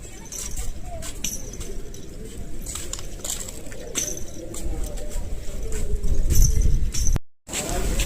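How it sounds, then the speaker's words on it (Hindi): Pigeons coo softly while pecking at scattered grain outside an ashram on the Narmada route, amid outdoor ambience, with scattered higher bird calls and some clattering noise, fairly close and steady throughout. "ये देख सकते हैं आप कबूतर।"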